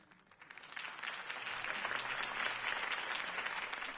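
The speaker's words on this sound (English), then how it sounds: "could have heard that applause" A crowd applauds steadily in the video game Batman: The Telltale Series, clapping swelling after a quiet start and holding at a full, sustained level.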